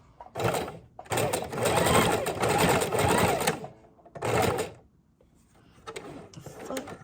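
A sewing machine stitches a mini junk journal in loud bursts: a short run, a long steady whir, then another brief burst, separated by pauses with soft handling clicks.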